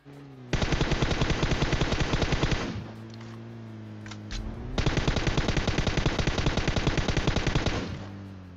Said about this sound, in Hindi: चलती गाड़ी से गोलियां चलाने में ना अलग ही मजा आता है